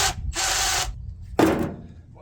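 A ratchet wrench worked on the engine of a vehicle abandoned for ten years, giving two quick bursts of clicking ratcheting, a short pause, then a third burst that fades out. Nearby and fairly loud, with no talking.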